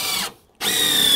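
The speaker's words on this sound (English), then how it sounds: "keep the contact between the drill bit and the screw with your left hand" Power drill driving screws into deck wood, a steady high whine that cuts out briefly and then resumes, loud and close.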